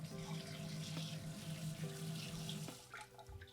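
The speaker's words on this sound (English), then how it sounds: "I'm going to rinse my catfish." Catfish pieces rinsed under a running kitchen tap, a steady splashing stream of water into a sink that eases off near the end, fairly quiet and close.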